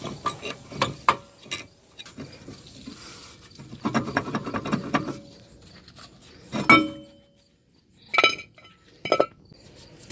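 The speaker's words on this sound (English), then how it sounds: "Wedge the rotor off with the screwdriver as well." A screwdriver pries the rear brake rotor off a 2010 Dodge Avenger with sharp metallic clinks and scraping taps, coming in irregular clustered bursts of metal-on-metal contact with quiet gaps between.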